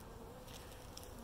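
Honey bees in a queenless hive give off a steady, dense buzzing hum, close and continuous and heard alone without any voices.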